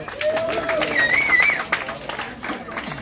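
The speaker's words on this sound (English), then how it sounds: "Give Jeremy a round of applause, huh?" Applause from a bar audience at a honky-tonk bar and grill in Salem, Oregon, brief moderate clapping mixed with someone talking loudly over it.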